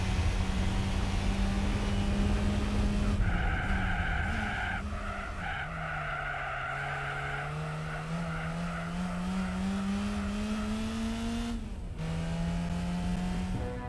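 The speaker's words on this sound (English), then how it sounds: "It's a trail braking test" Race car in Gran Turismo 4 trail braking through a test, with a steady engine drone and long tire squeals sliding in pitch as the car skids, loud and continuous.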